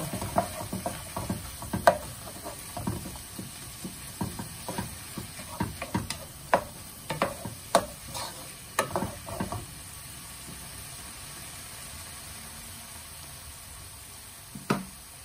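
A spoon scrapes and taps repeatedly against a frying pan as ground beef with pepper and cumin is stirred, with soft sizzling underneath and irregular clicks close by that thin out toward the end.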